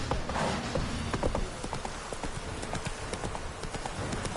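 Roach the horse gallops in The Witcher 3, hooves pounding in a rapid, steady clip-clop rhythm that stays loud and close throughout, with faint game ambience underneath.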